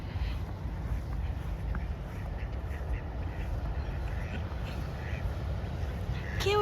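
Ducks on cold winter water in Sweden quack now and then, fairly faint against a steady outdoor background hiss.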